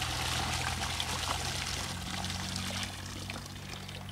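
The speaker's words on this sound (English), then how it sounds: "you want to pour the contents of your bucket through your dip net" Water and debris poured from a bucket through a dip net, a continuous splashing trickle that runs for several seconds and eases slightly toward the end, close and steady.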